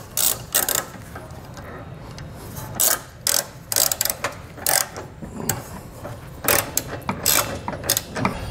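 Ratchet tightening trailer hitch bolts on a 2019 Dodge Journey, heard as repeated loud bursts of rapid clicking from close by, with short pauses between strokes.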